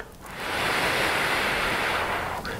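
Someone blows a long, steady breath to imitate wind rustling through leaves, close to the microphone, a broad airy whoosh that swells and holds for about two seconds with no speech.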